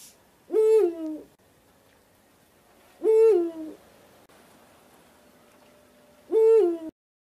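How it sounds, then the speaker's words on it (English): An owl hoots three times at midnight, each call a loud, close, drawn-out hoot separated by a few seconds of silence. "At midnight, the owl hooted three times and woke her up."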